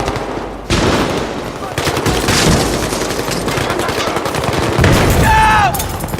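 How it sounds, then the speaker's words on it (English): In the video game Battlefield 3, loud rapid machine-gun bursts and a grenade blast fill the scene, with continuous close gunfire crackling throughout and a sharp explosive boom among the shots. "there I took out the enemy by throwing a grenade at his balcony"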